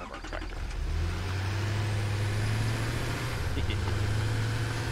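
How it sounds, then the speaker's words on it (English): Tractor engine in the video game Satisfactory droning steadily at a low, even pitch as it drives, loud and continuous, with faint background noise. "Let's drive our tractor."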